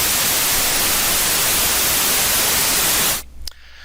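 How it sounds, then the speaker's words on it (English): Steady broadband white noise played back for an A-weighting demonstration: loud and even for about three seconds, then cut off abruptly into near silence. "I've got some white noise here, which is just broadband noise."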